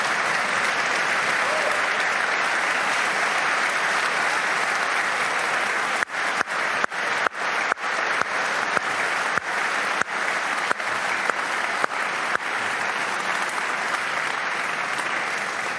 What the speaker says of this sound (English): don't applaud quite yet, although I understand the enthusiasm